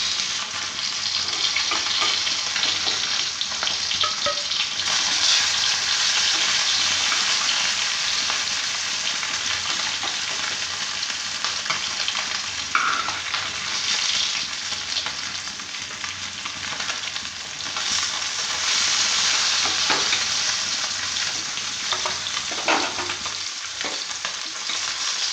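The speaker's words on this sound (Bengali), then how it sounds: "এইভাবে আমি সব মাছগুলো ভেজে নেব।" Fish fry in a pan with a loud, steady sizzle and crackle close by. The sound runs unbroken for the whole stretch, with faint stirring or scraping now and then.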